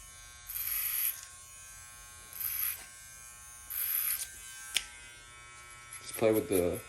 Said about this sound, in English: Still play with the clipper.